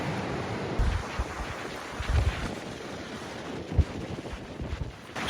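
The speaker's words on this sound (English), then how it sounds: "It's really windy here." Gusty wind buffets the microphone in low thumping bursts over a steady roar of surf at Bells Beach, Australia, on a cold day, loud and continuous.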